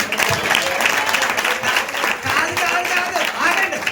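A church congregation claps together in praise, a dense continuous burst of applause with a voice audible over it.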